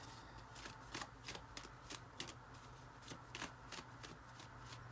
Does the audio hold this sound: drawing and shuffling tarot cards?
yes